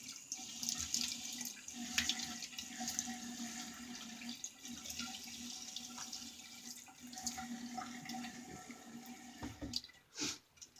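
Tap water runs steadily into a sink while a man wets his face before a shave with a Semogue Galahad boar brush; a continuous splashing flow with small variations, ending in a few louder splashes.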